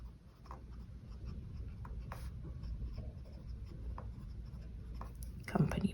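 A fine-nib fountain pen scratches softly across paper in quiet strokes and small scrapes, faint and close, with low room noise and no talking.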